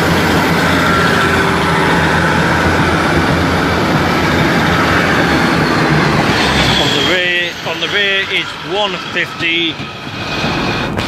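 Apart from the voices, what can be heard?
Royal Scot charter train passing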